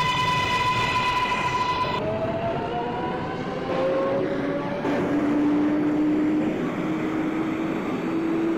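An R188 subway train on the 7 express runs in the OpenBVE simulator, a loud steady rumble under falling and rising motor whines, with a sharp shift in the middle as the motor tone drops.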